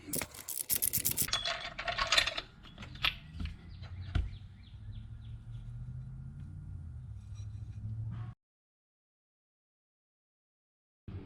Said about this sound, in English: I'm going to go ahead and put a fairly large ratchet with a 14mm on it